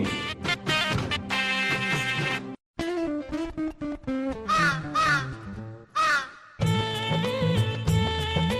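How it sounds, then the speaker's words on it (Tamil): Several crow caws ring out within a bouncy Tamil children's rhyme, set among bright, dense backing music with brief pauses between phrases. "காவென கரையுது பார் கருப்பு நிறக்காகம்"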